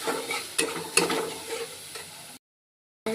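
Spice paste being stirred and fried in oil for bhetki fish curry, a close sizzle punctuated by sharp spatula scrapes and knocks against the pan, then a short silence before the frying resumes.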